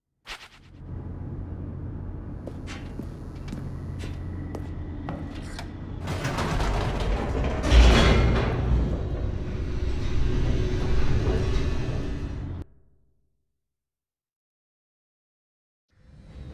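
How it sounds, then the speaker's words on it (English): An elevator in The Stanley Parable video game plummets downward with a continuous mechanical rumble and rattle that swells midway, then cuts off abruptly into silence before a brief thump at the end. "The elevator raced downward"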